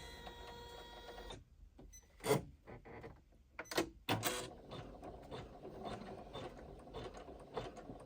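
A serviced sewing machine struggles while stitching a wallet, giving a ratcheting, uneven mechanical chatter with stop-start bursts and clacks, close and fairly steady toward the end, with no voices.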